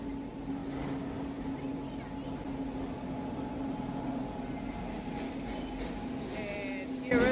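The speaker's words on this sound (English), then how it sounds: "And here is our not so fast train." A slow passenger train in India, heard from inside as a steady low rumble and hum of the carriages with a constant tonal drone, moderately loud throughout, with faint voices in the background.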